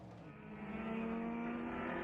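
Race cars roar around the circuit during an Asian Le Mans Series endurance race in Thailand, the engine note swelling steadily louder and holding a sustained high whine, with no voices.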